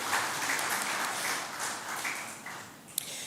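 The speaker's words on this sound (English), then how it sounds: "Let's give them a round of applause for a job well done." A crowd claps steadily in a moderately distant hall at an education ministry results release, a dense patter of hands that swells slightly and begins to fade at the end.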